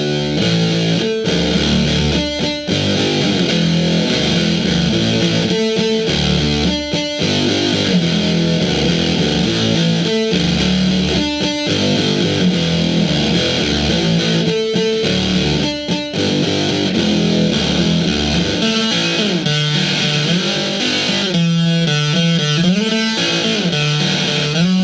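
Heavily fuzzed electric guitar through a Univox Super Fuzz copy pedal with the control turned almost all the way down for a darker tone, playing loud continuous riffs with rhythmic stops and sustained notes.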